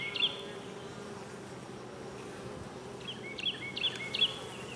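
A dense, steady hum of honey bees fills a nursery nuc hive up close, with a few high chirping bird-like notes breaking in over the buzz toward the end.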